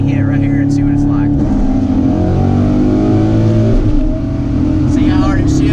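Cammed 2009 Pontiac G8 LS accelerating hard from inside the car, engine roaring and rising in pitch, then a firm shift and another climb, with a voice talking over it.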